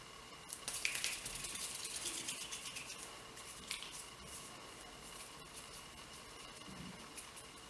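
Pastry dough for a multi-fruit tart being kneaded by hand, soft wet squishing and pressing sounds, fairly close but quiet, with irregular squelches over a faint background hum.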